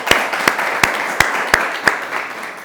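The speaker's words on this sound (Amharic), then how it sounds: "ለሱም ጀግንነቱም ሞቅ ያለ ጭብጨባ ያስፈልገዋል" A small group applauds a guest in a studio, with about six sharp, evenly spaced claps over a soft wash of hand noise. The applause is brief and close, with no voices.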